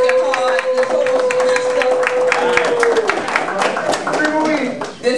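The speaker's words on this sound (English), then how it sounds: "get up a round of applause for working hard" An audience applauds the PILAU office staff with close, sharp clapping from many hands, while talk and cheering voices rise over it.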